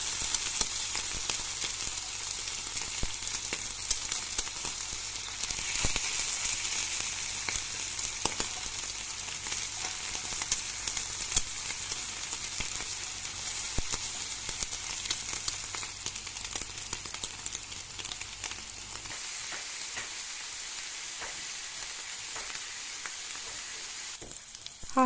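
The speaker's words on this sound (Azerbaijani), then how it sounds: "Ətlərin və quyruqların hər iki tərəfini yaxşıca qızardırıq." Chunks of meat and tail fat fry in a pan for pan kebab, a steady close crackling sizzle with occasional pops, continuous until a brief quieter stretch near the end.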